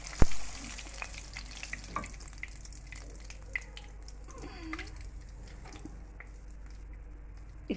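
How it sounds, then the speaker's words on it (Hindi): Fish pieces frying in a pan, a quiet ongoing sizzle with scattered crackles and a sharp clink at the start, plus light stirring or handling sounds, no voices. "और बस इस तरह से मैं सब अपनी फिश को फ्राई कर लूँगी।"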